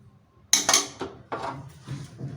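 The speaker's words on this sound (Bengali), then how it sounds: "এবার আমি একটা পাত্রের মধ্যে ঢেলে নিচ্ছি।" Fried mung dal is poured from a pan into a metal vessel, beginning with a sharp clatter and followed by several rattling scrapes and knocks of metal on metal, close and loud against an otherwise quiet kitchen.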